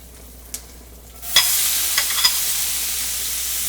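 Onions hit hot spiced oil in a home Indian kitchen, setting off a sudden loud sizzle that keeps frying steadily, with a few sharp clinks and stirring scrapes near the start.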